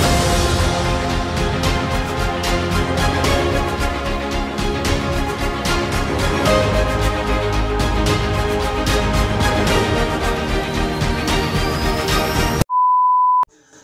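Electronic telephone beeping for an incoming call, a dense repeating electronic tone pattern that runs steadily and loud, then ends with a short sustained single-pitch beep after a brief gap.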